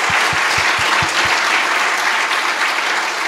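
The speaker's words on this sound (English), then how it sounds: "Big applause for her, please." A conference audience applauds a project manager at a talk on sustainable building, the clapping dense and sustained throughout, with a few low thumps near the start.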